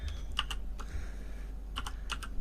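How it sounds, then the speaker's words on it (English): Fingers tap out a few quick keystrokes on a computer keyboard, close and distinct, in small clusters separated by short pauses over a low steady hum. "I'm just going to type in here"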